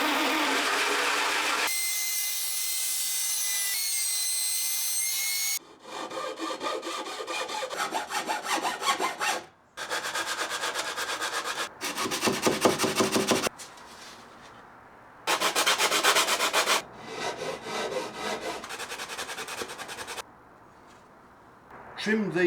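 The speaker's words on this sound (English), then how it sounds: "Trimmed these 2 pieces and thinned them down at the corners to match the tapering of the braces" Wooden acoustic guitar braces being trimmed and thinned at the corners with hand tools for a slimline build, rasping strokes in bursts separated by pauses, with some stretches of talk and other noise.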